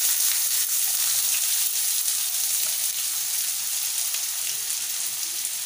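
Loud, continuous sizzling of onions frying in hot oil, a dense crackling hiss that holds steady throughout with no voices.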